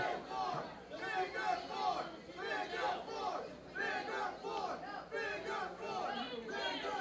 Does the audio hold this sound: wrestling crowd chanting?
yes